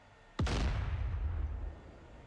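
A tank's main gun fires at a truck in the combat game DCS Combined Arms, a single sharp, loud boom followed by a long rumbling low decay, with no talk.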